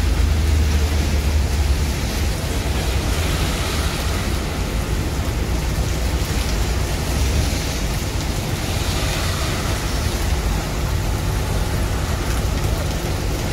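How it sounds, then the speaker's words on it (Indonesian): Dense, steady roar of heavy rain around a bus in Palembang, loud and unbroken throughout, with a low rumble underneath. "Hujan-hujanan"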